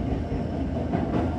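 A Toyo Rapid Railway train runs along the track between Nishi-Funabashi and Higashi-Kaijin, giving a steady, loud rumble of wheels and motor with faint rhythmic clatter throughout and no speech.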